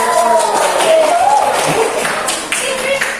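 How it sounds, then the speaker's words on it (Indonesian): Classroom applause for a student group, a mixed patter of clapping under lively chatter and voices from the class. "Beri tepuk tangan buat kelompok"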